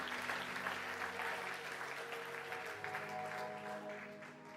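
A church congregation applauds in a steady wash of clapping that holds fairly even and gradually eases, moderately distant and not very loud.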